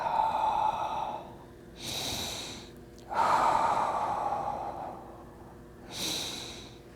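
Slow, audible breathing during a qigong stretching exercise from the Eight Brocades set, close and loud, with long hissing inhales and exhales alternating in a steady rhythm of about four breaths, no speech over them.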